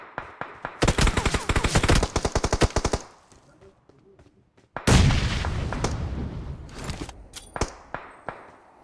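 In-game gunfire from PUBG Mobile: a rapid, loud burst of automatic fire, a brief lull, then a heavy booming blast followed by scattered single shots.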